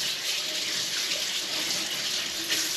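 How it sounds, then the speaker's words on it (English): Kitchen tap running steadily while hands are washed during home baking, a continuous close splashing water flow with no talking. "just quickly wash my hands"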